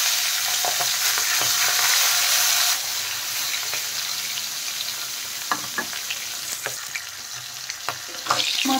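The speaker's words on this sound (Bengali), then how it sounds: "এখন মাছের মাথাগুলো ভেজে নিচ্ছি" Fish heads fry in hot mustard oil in a kadai with a loud, steady sizzle and crackle. The hiss eases slightly partway through, with scattered pops and a few sharp spatters near the end.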